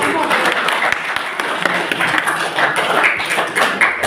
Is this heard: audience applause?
yes